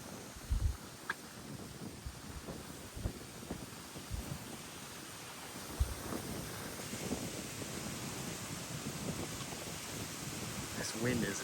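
Strong outdoor wind buffets the microphone in continuous low rumbling gusts with intermittent thumps, steady roaring noise throughout.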